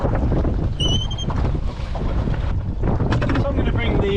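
A sailboat beating to windward in a force 4 breeze gusting force 5, with heavy roaring wind buffeting the microphone over rushing water, and faint whistling and rattling rigging tones.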